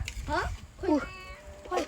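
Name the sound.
cat meowing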